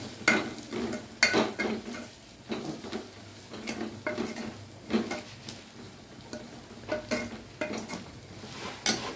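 Ginger-garlic paste with ground onion and coconut sizzles gently in hot oil for an amti tempering, with a soft continuous fry and repeated scrapes and clinks of a spoon stirring in the pan, fairly quiet, with no talking.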